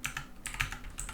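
Quick, light keystrokes on a computer keyboard as a number is typed, a few close clicks in an uneven burst, with no talking.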